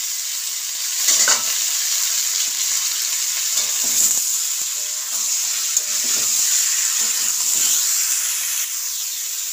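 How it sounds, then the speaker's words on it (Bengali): Young jackfruit fries in a wok with a steady, bright sizzle and hiss, broken by occasional scraping stirs and soft clinks. "এঁচোড়টা আমি উল্টে পাল্টে ভেজে নিয়েছি"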